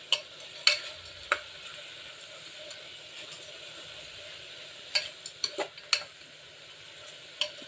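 Mung beans and peanuts fry in a pan with a faint steady sizzle, punctuated by occasional sharp scrapes and clinks of stirring.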